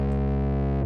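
A guitar runs through a fuzz distortion pedal with its sustain pushed, giving a thick, sustained, harmonically dense fuzz tone that holds loud and steady for about a second before cutting off abruptly.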